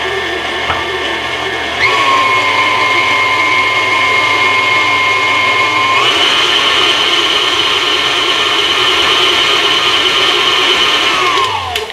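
An electric mixer beating sour cream cinnamon crumb cake batter, a loud steady whine that steps up in pitch partway through and then winds down at the end.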